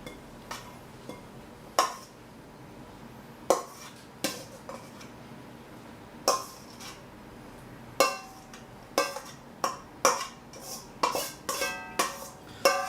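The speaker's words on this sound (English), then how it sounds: "We'll grab our serving bowl and we're just going to dump the salad in there." Salad tipped into a serving bowl in a home kitchen while cooking a king salmon meal, heard as a run of sharp clinks and knocks of dish and utensils, sparse at first then quicker and clustered toward the end, with no talking.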